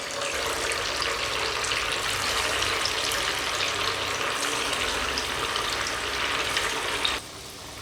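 Poha mixture poured into oil heated over a low to medium flame, giving a steady, dense sizzle of frying that holds throughout before easing slightly at the very end.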